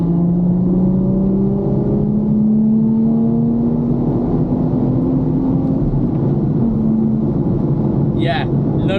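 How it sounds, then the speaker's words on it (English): A 430 hp stage 2 car running on 95-octane fuel accelerates hard in a fourth-gear pull, its loud engine drone rising steadily in pitch inside the cabin, with a voice briefly at the end. "let's go for a 4th gear pull and see what horsepower this thing pulls"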